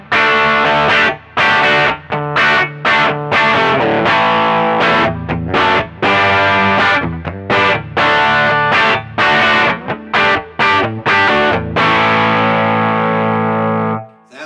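A humbucker electric guitar plays through a Quilter Superblock amp with heavy distortion and a little reverb. Loud chugging chords come in rhythmic bursts and the last chord rings out, with no voices.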